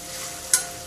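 Tomatoes softening in a hot pan for paneer bhurji, a soft bubbling sizzle with one quick scraping mash midway, short and close.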